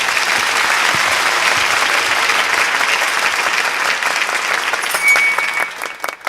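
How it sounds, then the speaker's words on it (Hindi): An audience at a poetry recital bursts into loud, dense applause that holds steady for several seconds before tapering into scattered claps. "तालियां"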